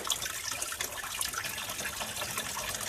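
Fluid drains from a 1968 Dodge Charger engine during engine removal, a steady close splashing trickle of liquid pouring and spattering without pause.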